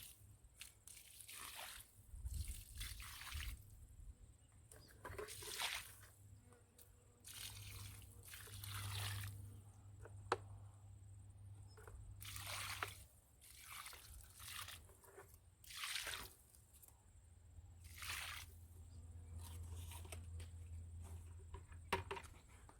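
Water is poured around the base of a newly planted taraire tree in a winter garden, a soft trickling and sloshing that comes in several separate bursts, fairly faint and close, with no talking.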